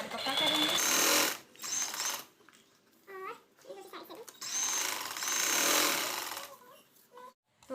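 A sewing machine stitches the shoulder seam of a baby frock, running in two sustained bursts with quiet pauses between them, while a voice speaks in the gaps.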